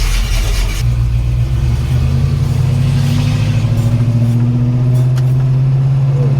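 A 1968 Ford Mustang pulls away and accelerates, its engine droning steadily loud and close, with a deep low rumble rising gradually in pitch; no voices.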